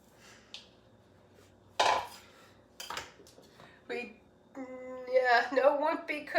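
Canned cannellini and kidney beans poured into a soup pot for pasta fagioli, with sharp metallic clanks of the can and pot and a wet slosh, amid close talking from the cook.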